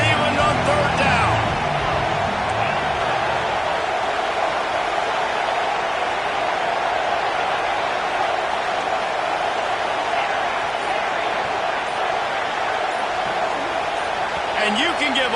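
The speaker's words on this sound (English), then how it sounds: "The noise reverberating off the checkerboards in Neyland on third down" Stadium crowd roaring on third down at Neyland Stadium during a Tennessee vs Nebraska football game, a dense, sustained wall of cheering and noise that holds steady throughout.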